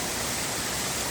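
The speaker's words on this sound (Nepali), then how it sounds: "यहाँ छाङ्गे झरना पुगिसकेका छौँ" The Changhe waterfall, a hidden waterfall near Banepa, Nepal, pours in a dense, loud, unbroken rush of falling water heard up close with nothing else audible.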